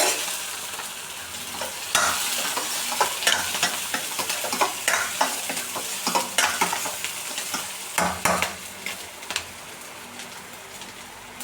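Ginger, garlic and green chili frying in bubbling coconut oil for Kerala-style kadala curry, a close crackling sizzle punctuated by repeated spatula stirs and scrapes, with faint bird cooing far behind.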